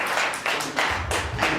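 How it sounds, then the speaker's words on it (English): A few slow, spaced claps at a Black History Month event, roughly five distinct hand claps close by in a quiet room. "Please, just a big round of applause for this guy."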